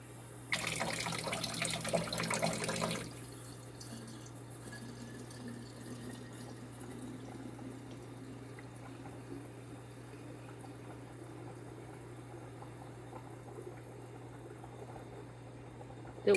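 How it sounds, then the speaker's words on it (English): Water from a tap runs into a spray bottle of all-purpose household cleaner, a loud gushing fill of about three seconds followed by a long, quiet stretch of low room noise. "Now we'll take this and fill it up with water."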